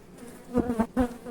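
Honeybees buzzing at an opened beehive during a spring hive inspection, with close droning wingbeats that swell in short bursts as bees fly past.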